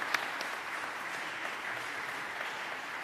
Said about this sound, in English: So everybody give a big round of applause to our second panel of witnesses.